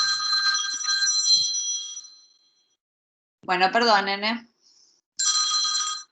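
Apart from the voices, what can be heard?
telephone ringing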